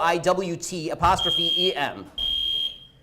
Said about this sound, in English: somebody pulled the fire alarm to stop this